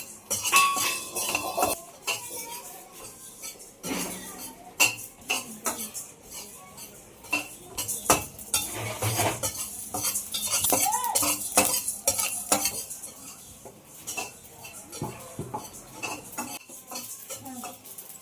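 A spoon stirs fenugreek, mustard seeds and cumin frying lightly in oil in a pan, giving busy metallic scraping and clinking with a soft sizzle underneath, fairly close and continuous, with no talking.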